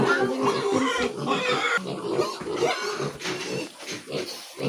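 A farm pig oinking and grunting close up, a dense series of rough, nasal grunts and squeals that runs steadily and loudly throughout, with no speech over it.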